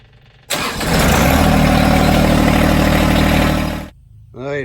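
A John Deere 1026R compact tractor engine cranks and fires, then runs at a loud steady drone for about three seconds before cutting off abruptly, followed by a brief voice.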